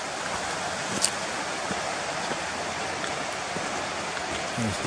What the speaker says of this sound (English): there's a stream coming down to meet the river over there